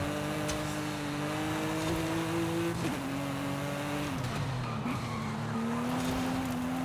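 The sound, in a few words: race car skidding and sliding off course in video game Forza Horizon 5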